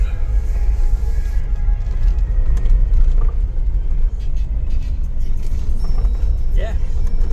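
A 2018 Jeep Wrangler Sahara driving on a road, its steady low engine and road rumble holding loud and constant throughout, close up, with a few brief higher rattles near the end.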